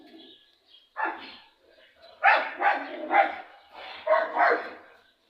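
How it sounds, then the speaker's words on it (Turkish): Several dogs barking in short bursts, a few yips and barks spaced irregularly, fairly close with quiet gaps between. "Şimdi patili köpek çocuklarımı da ziyaret edeceğim."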